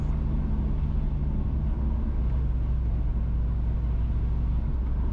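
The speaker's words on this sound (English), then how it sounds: "Currently, we are driving south in Mango Valley towards Fellowship Hall" A car drives south along a road through Mango Valley toward Fellowship Hall in St. Mary Parish, Jamaica, its engine and tyre rumble steady, close and continuous throughout.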